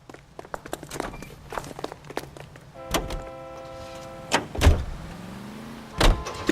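Footsteps and a car door shutting as characters climb into a 1940s car in L.A. Noire, followed by a steady engine hum with a few more thuds and knocks, close and moderately loud.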